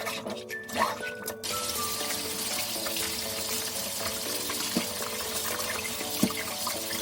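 Boiled taro is rinsed under cold running water in the kitchen. Steady tap water gushes and splashes throughout, with occasional louder splashes and knocks as the pieces are handled.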